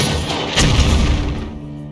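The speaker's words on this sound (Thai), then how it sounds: "โจมตี ปืนใหญ่" A cannon attack in the Hearthstone card game lands as a single booming crash about midway, with a heavy low thud that rings briefly and fades.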